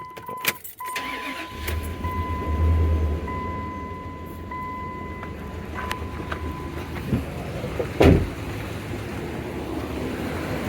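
A 2005 Dodge Ram pickup engine with a cylinder 3 misfire cranks, catches and settles into a steady rumbling idle nearby, with a brief louder burst late on.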